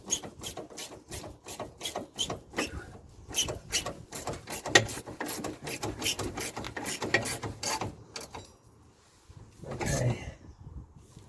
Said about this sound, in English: You can hear both ratchets there working away nicely